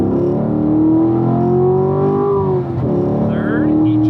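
Race car engine on a track at full throttle, revving up steadily with a sustained rising drone that dips briefly and climbs again, with an instructor talking over it throughout.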